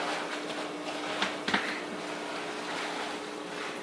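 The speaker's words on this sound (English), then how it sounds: "all of a sudden it's getting really cold again with that wind" Strong, cold wind blows steadily in a broad, rushing roar, with a couple of brief gusty bursts partway through.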